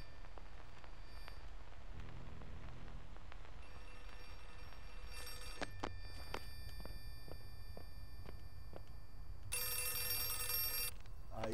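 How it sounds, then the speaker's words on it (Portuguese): Telephones ringing in all the rooms of a building in the horror video game Outlast 2, repeated electronic ring bursts over a low rain-like ambience, with no talking. "Tá tocando é todos os telefones de todas as salas"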